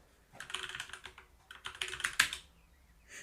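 Someone types on a computer keyboard while setting up Docker on Arch Linux, two quick bursts of close, clicky keystrokes separated by a short pause, with no voices.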